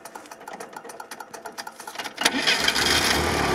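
A Jeep Willys engine cranks with quick, regular pulses, then catches and settles into a loud, steady running roar for the last second and a half.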